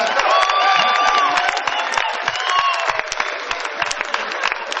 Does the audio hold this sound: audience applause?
yes